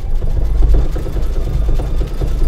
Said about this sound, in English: And now it's going to stitch the decorative around that.